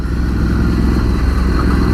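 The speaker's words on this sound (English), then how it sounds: "Even with the standard exhaust that this bike has, it's got a great sound, great note to it." Engine note of a 2019 Ducati Scrambler 1100 motorcycle with standard exhaust, a steady, loud, close rumble that holds even throughout while the bike rides through Tuscany.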